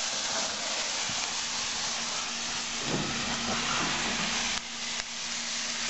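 Chopped peppers, onions and tomatoes hit a smoking-hot oiled wok set over coals on a patio, giving a steady, close hiss of sizzling with a few soft clacks and stirring bumps.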